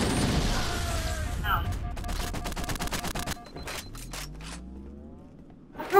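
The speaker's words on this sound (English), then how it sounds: "They're throwing a grenade at us." Gunfire and a grenade blast in a Halo firefight, a dense burst of rapid shots and booms that thins out into scattered cracks and a rumbling explosion, with electronic game effects around them.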